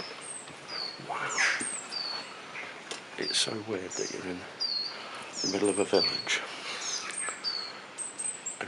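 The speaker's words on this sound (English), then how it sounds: "all you can hear is birds and the wildlife" Birds chirp and twitter in the wild around an abandoned duke's house in a village: high, repeated calls scattered throughout, heard over someone talking close by.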